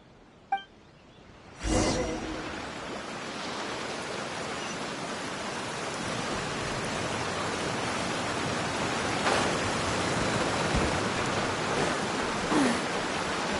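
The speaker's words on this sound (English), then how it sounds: "It's raining again." Steady rain hisses as a broad, even wash in Genshin Impact, beginning after a short clink and soft whoosh, then holding constant and slightly building, with faint scattered tones over it.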